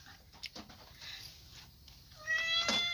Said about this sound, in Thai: แมวกระยาก